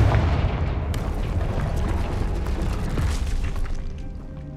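A Confringo fire spell explodes in Hogwarts Legacy with a loud, rumbling blast. Crackling debris and bursts follow as it slowly fades over several seconds.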